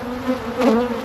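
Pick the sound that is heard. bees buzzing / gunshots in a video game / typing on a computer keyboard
bees buzzing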